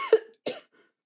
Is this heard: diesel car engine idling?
no